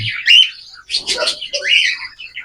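Cockatiel in a breeding setup gives several loud, close whistling chirps and squawky calls in quick succession, with no talk over them.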